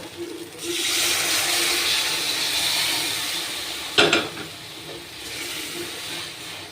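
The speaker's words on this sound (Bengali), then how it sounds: "এবার আমি জলটা দিয়ে দেব" Water poured into a pan of sizzling catla fish curry makes a steady hissing rush that settles into a gentle bubbling simmer, with a brief clatter partway through.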